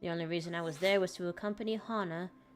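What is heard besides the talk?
No distinct noise like a dog, phone or traffic.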